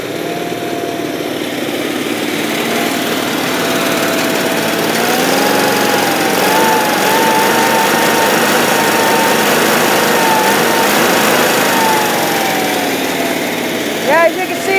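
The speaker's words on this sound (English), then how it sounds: "as you can see, that motor's smoking pretty good. I'm going to shut them off here." A smoking engine in a Suburban runs steadily near the listener, a continuous rough buzzing drone with small wavering shifts in pitch, while a voice speaks over it.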